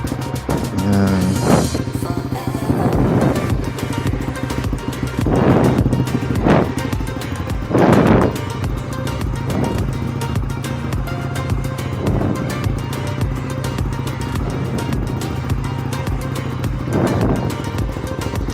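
Yamaha RS 150 motorcycle fitted with an Apido power pipe exhaust, running loud and close with a steady rough idle and several rising revs spread throughout.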